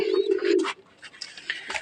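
A low coo from racing pigeons rolls out for under a second, followed by softer scattered chirps and rustling nearby.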